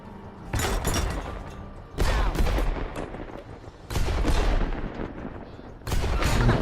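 Shots fire in the Worms WMD video game in four heavy, booming bursts spaced about two seconds apart, each a loud blast with a rumbling tail.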